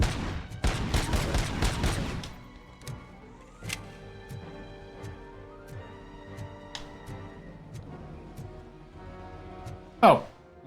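Paint explosions in a video game set off a dense burst of rapid crackling pops at the start, then sparser sharp blasts and bright electronic effects scattered through, ending with one loud close hit.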